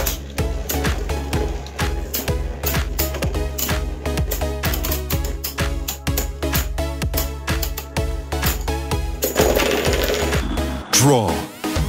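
Beyblade Burst spinning tops, including White Wild Wyvern, clash loudly and rapidly in a stadium battle, a dense stream of sharp metallic clicks and rattles ending in a final scrape.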